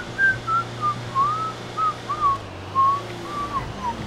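A person whistles a slow, wandering tune of short and gliding notes, clear and close over a low steady hum in a Grand Theft Auto Online scene.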